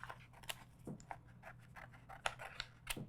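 Scissors snipping through heat press material along a line, with a steady series of quiet, close crisp cuts and blade clicks.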